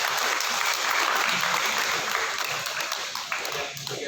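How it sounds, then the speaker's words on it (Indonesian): A church congregation at a wedding service applauds the newlyweds, steady dense clapping filling the room and tapering slightly near the end. "Boleh beri tepuk tangan buat"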